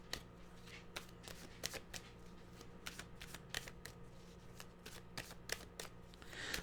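Tarot cards being shuffled by hand, a steady run of crisp riffling flicks and soft slaps repeating quickly and close up, heard alone over a quiet low background hum.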